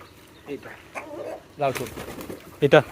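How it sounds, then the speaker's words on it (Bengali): Pigeons at a bird market cooing and fluttering among chickens in short bursts, with a couple of louder wing or call sounds near the end, under a person talking. "এখানে দেখেন মুরগি আছে কবুতর আছে"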